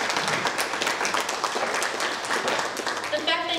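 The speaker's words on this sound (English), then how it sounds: "Let's clap for each of you for being here tonight." A fundraising-event audience in Milwaukee claps together, a dense, steady wash of hands filling the room for several seconds, with voices mixed in.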